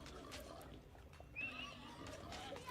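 A horse in a real-time strategy game gives a short whinny partway through, heard under a busy game backdrop of hoof clatter and battle clicks, with a commentator talking.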